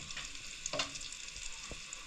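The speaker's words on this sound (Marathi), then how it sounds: "तिखट ॲड झालं तेलामध्ये भाजून घ्यायचं सगळं मस्तपैकी" Chili powder roasting in hot oil for a dhaba-style country chicken dish gives a steady soft sizzle, with a couple of brief stirring scrapes against the pan, close and moderately quiet, no voices.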